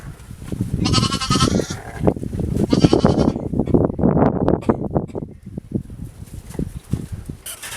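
Lambs and sheep bleat loudly and close together, several overlapping cries in quick succession amid farmyard rustling.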